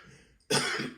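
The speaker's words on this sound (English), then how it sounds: "Let me clear my throat." One sharp, close throat clearing bursts out suddenly after a near-silent moment and holds briefly at full strength.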